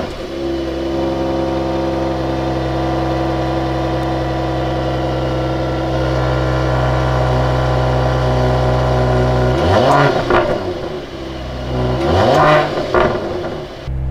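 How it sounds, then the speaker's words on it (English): A 3-liter six-cylinder petrol engine in a Mercedes-AMG GLE 53 idles with a steady deep hum, then is revved twice, each blip rising sharply and falling back, loud and close. "So let's start the engine and we will listen to the sound of this 3-liter six-cylinder"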